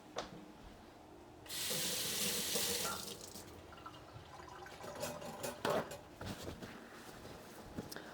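Tap water runs into a kitchen sink for a quick rinse during buttermilk pizza prep, a steady hissing gush lasting about a second and a half, followed by quieter clinks and handling sounds.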